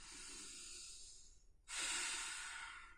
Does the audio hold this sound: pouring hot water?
no